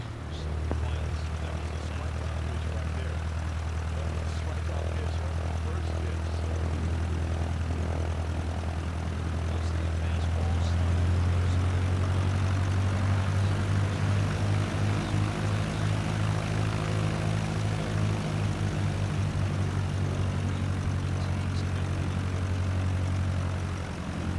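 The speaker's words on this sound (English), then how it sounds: "Now slowly taxi onto the runway and align the plane with the center line." Propeller airplane taxiing onto a runway in a flight simulator game, a steady low droning engine hum that deepens and grows slightly louder around the midpoint, with a rapid pulsing beat from the propeller, continuous throughout.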